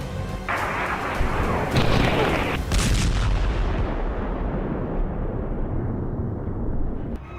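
Heavy bombardment of Hezbollah positions in Beirut, Lebanon, with Israeli air force bombs: several powerful blasts early on, then a long rolling rumble that fades slowly, loud and with no talk.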